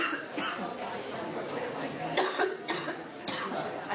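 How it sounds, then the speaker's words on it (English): Several harsh chest-cold coughs come in quick bursts from a person nearby, with murmured chatter and room noise in the background. "I have that like chest cold cough."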